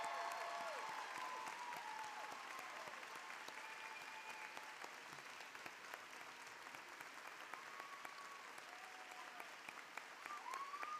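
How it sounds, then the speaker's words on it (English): A large audience at a college commencement applauds veterans, the clapping distant and sustained over a long stretch, with faint whistles and cheers rising through it. "Please join me in applauding their accomplishments, as well as the service of all veterans here tonight."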